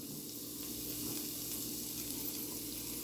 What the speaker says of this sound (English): we got them peppers sizzling